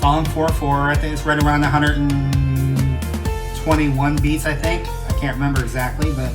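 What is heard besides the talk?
No distinct noise like a dog, phone or traffic.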